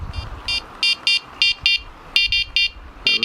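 A Sonik SKX carp fishing bite alarm at its loudest setting sounds a series of short electronic buzzer tones, about a dozen quick, bright beeps in an irregular rhythm, close and loud over faint background noise.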